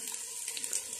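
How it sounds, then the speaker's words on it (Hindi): A light stream of water is poured into a pan of hakka noodles for steaming, making a continuous, even splashing rush that stays moderately quiet throughout. "दम के लिए पानी डाल के"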